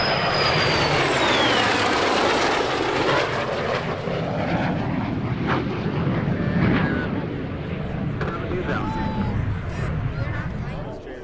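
A Polaris Dawn MiG-29 and a Randy Ball MiG-17 make formation flypasts at EAA AirVenture Oshkosh 2023, and their jet roar sweeps past loud and close before slowly fading into a distant rumble.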